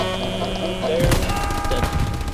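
Gunfire in a shooter video game with a half-track vehicle nearby: a loud, sharp burst of shots cuts in over a busy layer of game background noise.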